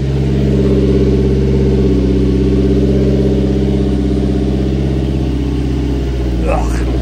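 The small engine of a Subaru Sambar with a freshly rebuilt carburetor runs loud and close, holding a steady throttled-up drone that barely changes.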